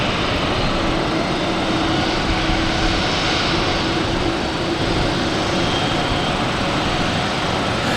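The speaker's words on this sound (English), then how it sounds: "Right next to arrive is United Airlines. It's 737 MAX 8 coming in from Newark." A United Airlines Boeing 737 MAX 8 arrives at Boston Logan with a loud, continuous broadband jet roar and hiss that holds steady throughout, heard outdoors with no talking.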